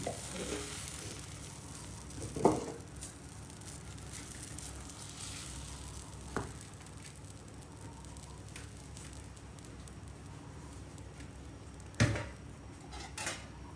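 Urad dal and wheat flour dosa batter sizzling steadily on a hot pan, a continuous soft frying hiss with a few sharp clinks of a utensil against the pan.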